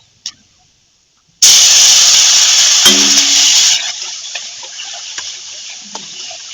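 Ground spice paste hits a pan of onions fried until reddish, bursting into a loud, steady sizzle that settles after a couple of seconds into a softer, ongoing crackle with a few small pops.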